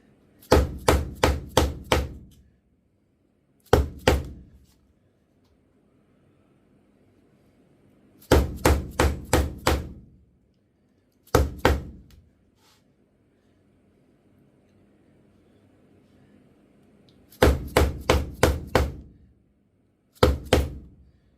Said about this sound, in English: I like to use this dead blow hammer rather than my mallet when I'm doing this.